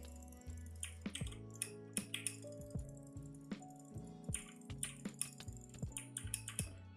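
Rapid typing on a Keychron K2 mechanical keyboard with crisp, clacky keystrokes in uneven bursts, close up, over a soft sustained musical tone in the background.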